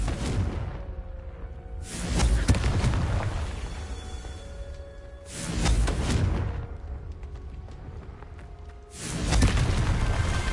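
Confringo blasting spell explosions in the Hogwarts Legacy video game, three heavy booms roughly three and a half seconds apart, each a sudden loud burst that rolls off into a fading rumble with a whooshing tail.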